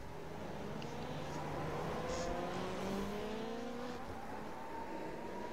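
A race car in a figure 8 enduro race roars steadily at mid distance, engine tones rising and falling over continuous crowd and track noise, with a brief tire squeal in the mix.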